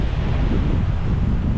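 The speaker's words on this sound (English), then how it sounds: "It was really sunny, but it was really windy." Strong, steady wind buffets a microphone on sea cliffs along the Kona coast of the Big Island before a storm, a dense, loud roar with a faint wash of surf underneath and no voices.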